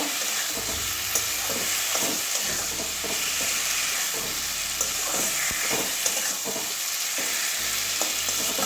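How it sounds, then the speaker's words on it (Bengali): Boiled potatoes sizzle and are stirred with egg, salt and turmeric in a pan while an egg curry with data greens is cooked. A steady close frying hiss runs throughout, with repeated spatula scrapes and taps and no talk. "এবারে আলু দিয়ে আর আলুটা ভালো করে কষিয়ে নেব"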